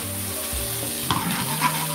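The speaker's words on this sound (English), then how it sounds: "So I'm stir frying." Vegetables stir-frying in olive oil sizzle steadily in a pan, with a few clinks and scrapes of stirring over the constant hiss.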